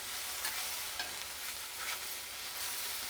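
Chutney ingredients, including cucumber and curry leaves, fry in a pan with a steady, loud hiss and crackle and occasional stirring scrapes throughout, close and without talk.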